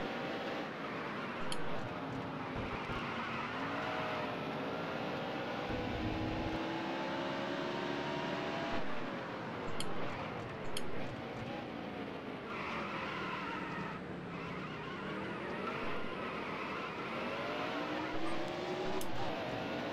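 A race car in a racing video game drives a lap at Sonoma, its engine revving up and down continuously with tire squeal and skidding through corners, loud and close, with no talk.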